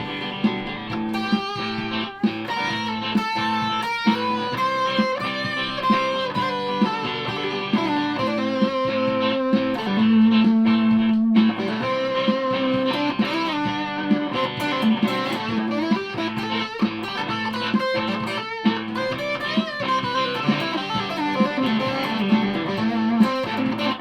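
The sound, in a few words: guitar distortion effect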